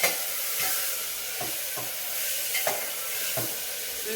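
Green peas fry in a pan for veg pulao, a constant close sizzle and hiss broken by several soft scraping stirs at irregular intervals, with no talking.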